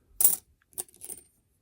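Quarters clink and jingle together as they are sorted through in a box of coins, a sharp bright clatter followed by a few lighter taps, close and alone.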